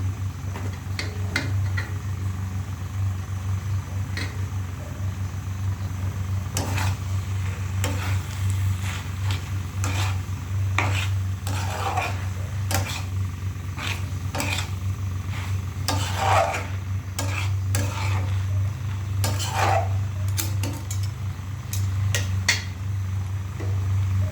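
Vegetable bhaji with chopped Malabar spinach leaves stir-fried in a pan, a continuous sizzle with intermittent scraping and rubbing strokes of a spatula, close and steady under a low hum.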